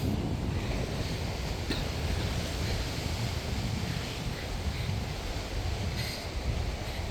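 Loud, rough ocean surf breaks steadily against an island shore, a dense continuous roar mixed with gusting wind buffeting the microphone.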